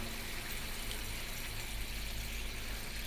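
Water runs steadily from a tap into a cooking pot of buffalo beef curry, a constant broadband gush without pauses or talk.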